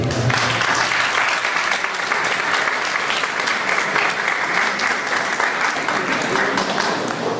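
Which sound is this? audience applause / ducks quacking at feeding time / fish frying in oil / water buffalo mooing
audience applause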